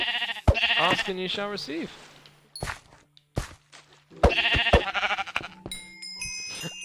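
Sheep in the video game Minecraft give several short, wavering bleats in quick succession while someone talks excitedly over and between them.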